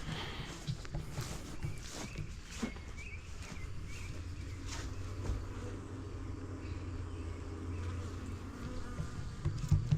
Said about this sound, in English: there is another swarm that took up in one of the traps